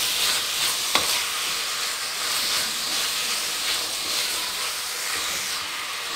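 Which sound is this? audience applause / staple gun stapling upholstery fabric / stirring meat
stirring meat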